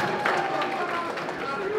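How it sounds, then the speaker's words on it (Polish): Guests at a wedding give Justyna steady applause, a dense wash of clapping from a crowd with voices mixed in throughout. "Wielkie brawa dla Justyny"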